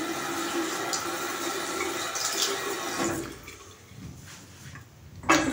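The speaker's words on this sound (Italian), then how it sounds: "primo step, bagnandoci il viso con acqua calda" Running water splashes continuously for about three seconds as a face is wet with hot water before a shave, then fades to quieter drips and a brief final splash close by.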